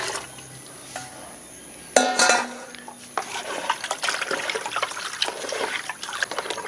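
Carrot-peel soaking water and rice washing water are stirred together in a bucket, a clatter and splash followed by continuous close sloshing and trickling.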